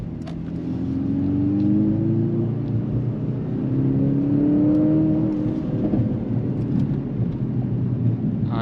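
Mercedes-AMG C63 S E-Performance sedan engine revving, a loud, close, rising and falling mechanical whir that swells twice, with small crackling pops from the exhaust and no talking.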